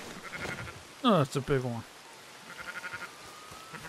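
Sheep in Red Dead Redemption 2 bleat in short, nasal cries, one louder call near the middle and fainter ones around it, while someone talks briefly over the game sound.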